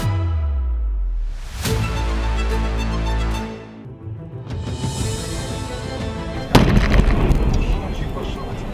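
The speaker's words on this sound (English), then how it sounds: "One collision, one explosion. Luckily, no one was too close when the gas tank blew up." A car's gas tank blows up after a collision with a deep booming blast, followed by rumbling debris and a second sharp, loud burst, all heard alone without voices.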